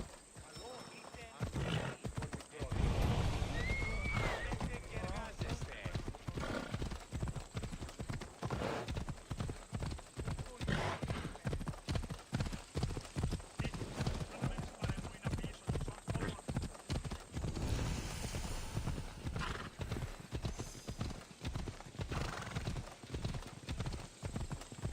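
Hooves clip-clop in a fast, steady gallop as a horse is ridden in Assassin's Creed Odyssey, with occasional snorts and neighs, while game voices and music sound over the continuous rhythm.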